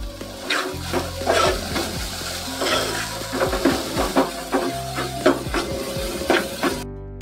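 Dried shrimp and jackfruit being stirred in a hot pan with a spatula, a steady sizzle under repeated scraping and clinking strokes, close and busy, with no talking.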